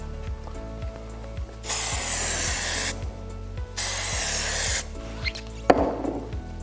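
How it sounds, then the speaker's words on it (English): Two sustained bursts of Tensorgrip M31 adhesive sprayed onto fiberglass matting, hissing steadily for about a second each, with quieter handling sounds and a faint repeating low hum between them. "Now we're gonna spray it, show you how it sprays"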